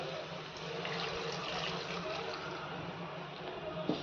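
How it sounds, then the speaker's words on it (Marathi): Hot water is poured into a pot of village-style chicken curry, making a soft, steady, rushing stream of liquid that lasts a few seconds at low volume. "आता जे गरम पाणी करून घेतले ते ह्याच्यामध्ये घालून घेऊयात"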